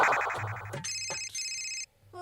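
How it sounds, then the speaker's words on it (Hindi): A mobile phone ringtone for an incoming call plays alone, a bright electronic melody with a short break partway through. "अरे फोन कर रही है, उठा ले।"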